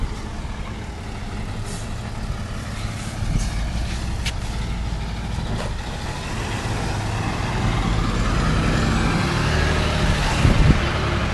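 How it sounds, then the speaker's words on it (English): Heavy trucks roll past on a road with a broad, steady rumble that grows louder toward the end, with a faint hiss like an air brake and no voices. "Damn trucks."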